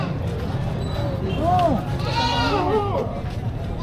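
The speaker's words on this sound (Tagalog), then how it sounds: "Ang laking kambing nito." A large female goat bleats a few wavering cries nearby at a cattle trading market, heard under people talking.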